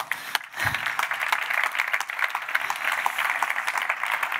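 An audience breaks into applause, sustained clapping from many hands at moderate volume after one brief low thump near the start.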